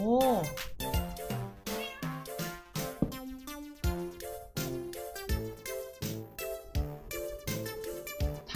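A Minecraft cat in Cobblemon meows over and over in quick succession, close and fairly loud, with a few overlapping calls.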